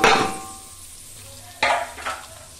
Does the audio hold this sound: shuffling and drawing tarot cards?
no